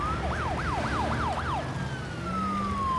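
An ambulance siren in the video game SimCity Cities of Tomorrow wails in five quick rising-and-falling sweeps, then trails off into a long descending tone over a low rumble of city traffic.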